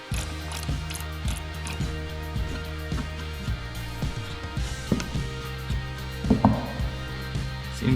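A hand ratchet tightens bolts on the rear rack of a Can-Am Renegade ATV, giving rapid, steady pawl clicks in continuous loud runs with brief pauses and a few heavier clunks.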